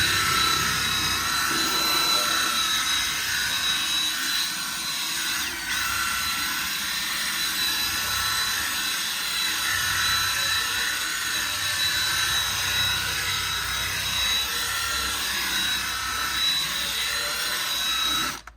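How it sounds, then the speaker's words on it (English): A steady, loud whirring motor runs without a break, a high buzzing drone from a Ryobi cordless drill spinning a brush attachment continuously while scrubbing SUV trunk carpet. "This is just a Ryobi drill with a brush attachment."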